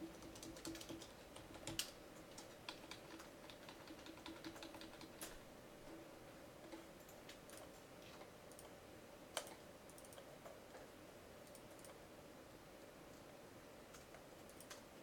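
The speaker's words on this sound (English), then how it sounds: "Type something and I'll undo it in a minute." Rapid typing on a computer keyboard, irregular bursts of light clicking keystrokes with a few sharper taps, close but faint over a low background hum.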